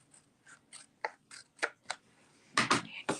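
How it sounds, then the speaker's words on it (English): Scissors trimming adhesive off a handmade paper card, heard as a series of short crisp snips, close and fairly loud, irregularly spaced and getting louder toward the end. "with this scissors that I have for adhesives, I'm going to go ahead and trim this off."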